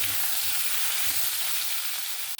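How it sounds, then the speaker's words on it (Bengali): Vegetables stir-frying in a pan for a tangy katla fish curry with dried mango, a steady bright sizzle with a few soft stirring scrapes underneath, even and close. "সবজিটা দেওয়ার পরে ভালো করে নাড়াচাড়া করে নিয়েছি"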